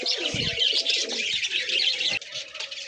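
Highflyer pigeons cooing and fluttering close by, with soft chirps and rustling throughout; no voices.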